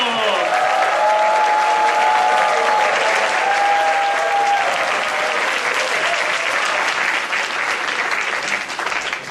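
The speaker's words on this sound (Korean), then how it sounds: "박수하겠습니다." A church congregation breaks into sustained applause as a guest pastor is welcomed to the stage, a dense, loud wash of clapping that stays steady throughout, with a few faint tonal notes underneath.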